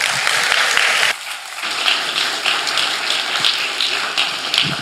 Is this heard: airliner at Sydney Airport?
no